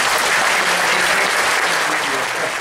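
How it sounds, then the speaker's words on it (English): Steady audience applause at a bird-knowledge quiz show, a dense even patter of clapping filling the room for a few seconds, close and fairly loud. "Okay, round of applause there."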